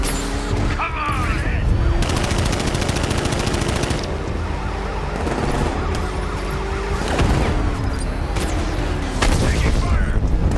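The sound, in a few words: gunfire in video game Batman: Arkham Knight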